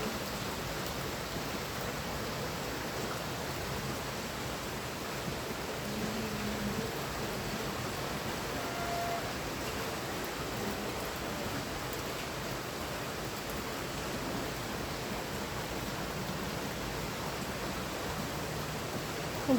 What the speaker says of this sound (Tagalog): Umuulan po sa inis.